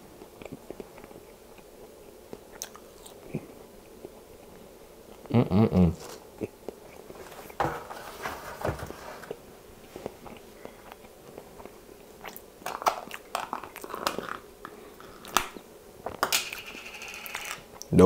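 Crunching bites and chewing of fries up close at an iftar meal, scattered crisp bursts among quiet stretches and faint background murmur.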